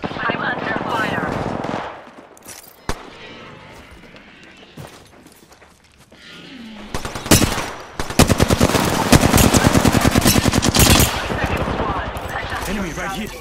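Rapid automatic gunfire erupts in an online multiplayer shooter match, opening with a burst, falling quiet with a few isolated shots, then returning as sustained loud machine-gun fire over the last several seconds.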